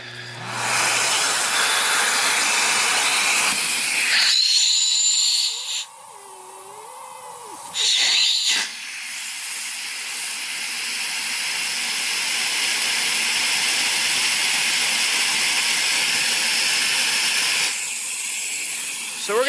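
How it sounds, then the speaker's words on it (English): Central vacuum pulling suction through a hose fitted with a gauge, a loud steady rushing hiss that briefly drops and shifts pitch as the hose is sealed and reopened, then holds at a slightly different tone. "we're going to show you how much suction you lose through the hose"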